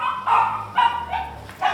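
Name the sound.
small dog barking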